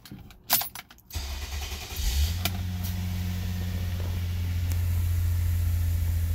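Toyota Avalon with a fault leaving no power to the dashboard, gauges or turn signals, its engine cranking and catching after a clatter of keys, then settling into a steady, close, low idle hum.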